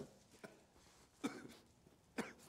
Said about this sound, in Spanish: ¿Quién está tosiendo?